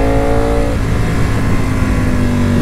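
A 2018 Ducati Panigale V4S motorcycle engine roars loud and close in a steady, sustained rev with no talking.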